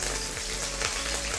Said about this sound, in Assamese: তেলখিনি গৰম হৈছে। মই এতিয়া পিঁয়াজ দি দিছোঁ।